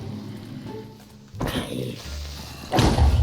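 A loud, deep blast booms out, then a second heavy burst follows near the end, with no talking: a creeper exploding in Minecraft.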